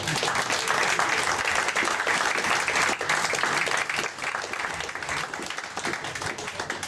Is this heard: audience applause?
yes